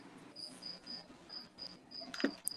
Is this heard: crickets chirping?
yes